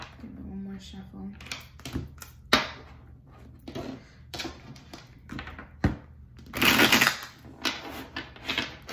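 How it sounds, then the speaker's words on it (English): Tarot cards are handled and shuffled on a desk: scattered taps and soft thunks of cards, then a brief, louder riffling burst near the end. "One more shuffle."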